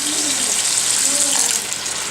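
A quarter cup of water poured into a hot frying pan with sesame oil and soy sauce hisses and sizzles as a continuous bright wash of sound.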